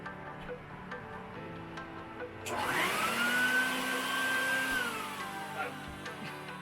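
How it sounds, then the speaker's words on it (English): A vacuum cleaner, sucking up insects aboard a sailboat, switches on partway through and runs with a loud, whining roar, its pitch rising then holding steady nearby. "I'm vacuuming up the bugs that are in the boat."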